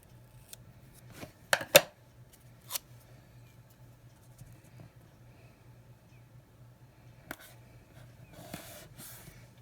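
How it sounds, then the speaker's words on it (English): Scissors snip through paper to trim the edges of planner printables, a few sharp close cuts clustered early, then a couple more later, over a faint steady hum with no talking. "I'm going to cut off the edges."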